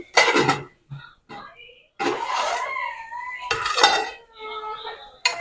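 A spoon scrapes and clanks against a cooking pot while stirring mutton fenugreek curry, several separate metallic stirring bursts with short pauses between them, close and clear.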